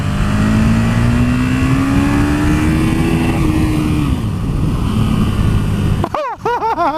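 KTM 1290 Super Duke R motorcycle accelerating in second gear, a loud engine drone with rising pitch and heavy wind roar heard from the rider's position, ending in a short warbling engine rev.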